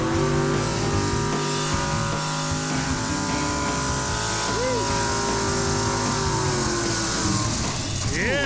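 A 1946 Chevy truck with a nitrous-fed 509ci big block engine revs loud and close at a drag strip, a sustained rumbling roar with pitch swells, while voices talk beneath it.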